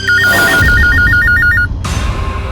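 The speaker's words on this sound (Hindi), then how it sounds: "चलो उठाओ, फोन उठाओ तुम्हारा अभी।" A telephone bell rings loudly in a rapid repeated trill inside an office during a tense exchange, then cuts off, leaving a steady hum.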